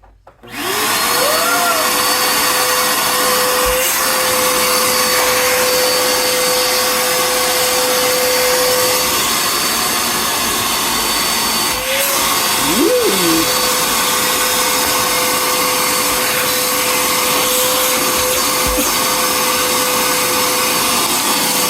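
A cheap shop vac runs continuously at close range, a steady loud motor whine with a constant tone that dips briefly and recovers, with no talk over it.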